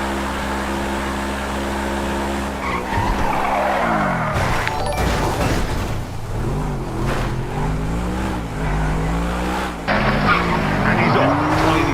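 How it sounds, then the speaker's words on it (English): A Mercedes V12 race car in GTA 5 screams through gear changes on a Top Gear track map, loud and close, its pitch rising and dropping with each shift, while someone commentates over it. "Really is ringing out that Mercedes V12 now."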